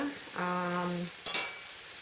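Stir fry sizzles in butter in a pan, a steady close hiss under a brief squealing tone, then a quick scrape of stirring near the end.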